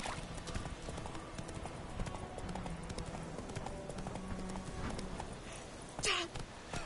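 Roach, Geralt's horse in the video game The Witcher 3, runs with steady rhythmic clip-clop hoofbeats throughout, accompanied by light rattling tack and a brief louder sound near the end.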